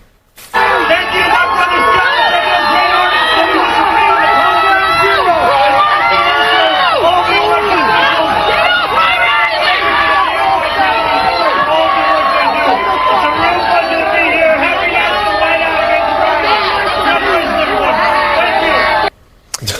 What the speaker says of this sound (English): Here he is getting booed in New York City